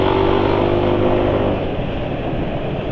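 An engine freshly changed to Shell Rimula R2 SAE 40 heavy-duty oil with an additive runs roughly, a loud, close, continuous coarse rumble that eases slightly partway through, with no talking.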